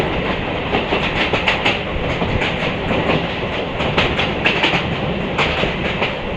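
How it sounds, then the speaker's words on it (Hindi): A MEMU passenger train runs along the track between Ramtek and Itwari, its wheels giving a continuous rumbling roar with repeated clickety-clack beats over the rail joints, heard steadily and close from on board. "बढ़िया बढ़िया ट्रैक साउंड आ रही है दोस्तों।"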